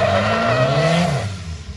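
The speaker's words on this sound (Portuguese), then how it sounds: "agora ele acelerou forte" A drift car accelerates hard at close range, its engine revving loud and rising in pitch with tire noise, then easing off slightly near the end.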